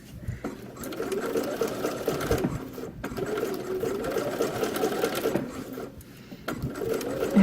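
A sewing machine stitches a shirt facing at a 3/8 inch seam line, running in a steady close whirring drone with brief pauses between bursts of stitching.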